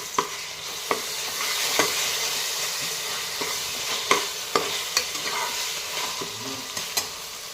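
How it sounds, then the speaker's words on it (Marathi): Ginger, garlic, green chili and coriander paste being sautéed in a pan for mixed vegetable shahi pulao, a steady loud sizzle broken by repeated scraping stirs with a spatula, no talking. "ही आलं लसूण, हिरवी मिरची, कोथिंबीरची पेस्ट घालूया. छान परतवून घेऊया."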